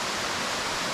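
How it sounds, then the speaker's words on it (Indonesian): Waterfall at Taenu, Ambon, a tall drop beside a bathing area: steady, dense broadband roar of falling water with no breaks, loud and continuous throughout. "Itu air terjunnya sana."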